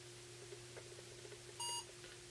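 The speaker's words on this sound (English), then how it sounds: "Get a beep." A single short electronic beep from a smartphone barcode-scanning app rings out clearly over a quiet background hum, with faint handling noises around it.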